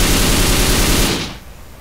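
Rapid automatic gunfire in the video game GTA, with the character CJ aiming and shooting, a dense continuous burst that fades out after about a second.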